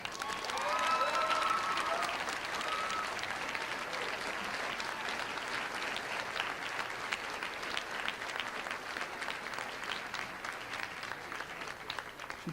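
Crowd at a junior high graduation ceremony in Palos Hills, Illinois, clapping in a long, steady round of applause, fairly distant and even, with a faint murmur of voices and a whistle near the start.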